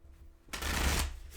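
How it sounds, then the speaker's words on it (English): A brief riffle of tarot cards being shuffled, a quick papery burst lasting about half a second after a quiet start. "I'm going to shuffle two more times."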